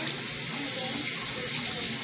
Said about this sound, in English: Take them, rinse them under the water, feel them, look at them